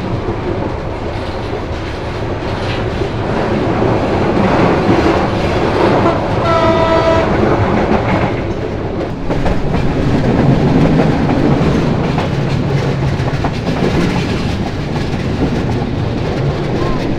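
A train runs along the line near Ahsanganj railway station in Bangladesh, its loud steady rumble and wheel clatter continuing throughout, with a horn blast sounding partway through, up close.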